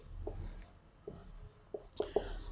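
Chalk or marker taps and scratches across a classroom board in short, scattered strokes, quiet and close, with a few sharper knocks near the end.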